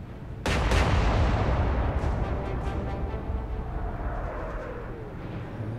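A single heavy naval gun blast from a warship in Atlantic Fleet booms out sharply, followed by a long rumbling echo that slowly fades over several seconds.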